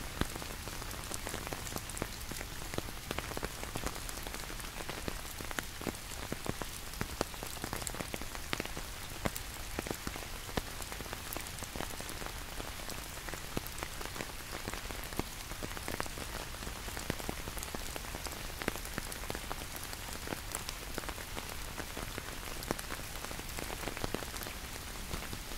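Steady rain falls at a cold winter campsite, a continuous close patter of drops on surfaces with no talking.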